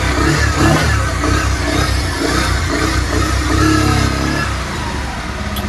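A Bajaj Pulsar 150 motorcycle with a worn clutch accelerates in gear, its engine revving loud and close for several seconds in a steady throaty drone that eases slightly near the end.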